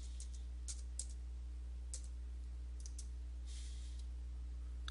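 Sparse, faint keyboard taps and mouse clicks on a computer as a code is typed into an online designer's admin tools, set against a steady low electrical hum.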